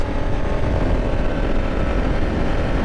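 A 2024 Kawasaki KLR 650 with a single-cylinder engine runs at a steady throttle on a gravel road, its close, continuous drone holding level, heard alone.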